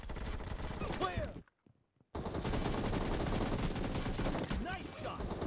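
Rapid automatic gunfire from the mobile battle royale game BGMI crackles in loud, dense bursts, broken by a short silent gap, with voices talking over the shooting.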